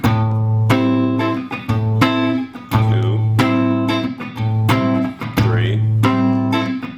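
A minor blues chord progression moving from the minor one chord to the minor four and a dominant five, played as loud, ringing chords struck repeatedly in a steady rhythm, with no voices.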